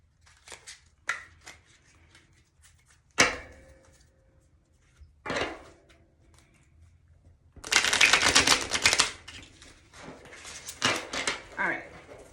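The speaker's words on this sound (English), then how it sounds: "let's shuffle this a little bit more" A tarot card deck is shuffled in crisp, rapid riffling bursts, close by, with scattered taps and handling noises in the quieter moments between.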